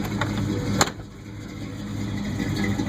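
A 1984 Chevy C10 pickup engine runs steadily to charge the battery, a low, even idle rumble with one sharp click partway through.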